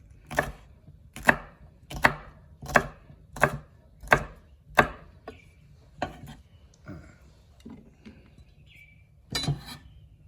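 Sharp knife chops land on a cutting board in a steady run of about eight strokes, then slow to a few scattered cuts with light clinks between.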